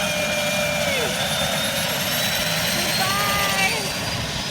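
Loud, continuous roar of an airplane engine powering up for takeoff, with whining tones sliding in pitch and muffled voices underneath.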